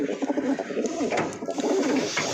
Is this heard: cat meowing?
no